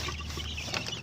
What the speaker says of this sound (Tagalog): Yan yung aming munting manukan.